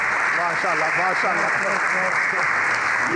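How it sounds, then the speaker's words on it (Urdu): An audience applauds in Jinnah Hall at a Defence Day event, steady dense clapping throughout, with a voice speaking over it. "جناح ہال شرکاء کی تالیوں سے گونج اٹھا"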